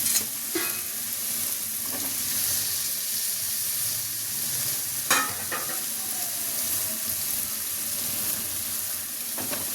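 Chopped capsicum sizzles in a pan for prawn gravy, with a steady frying hiss and the scrape of stirring, plus a few sharper clinks of a utensil against the pan.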